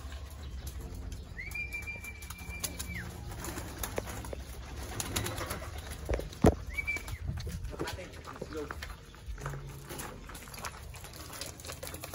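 Racing pigeons in a loft near San Pedro, Laguna, coo softly and rustle, with a couple of short rising calls and a sharp knock, while people talk nearby throughout.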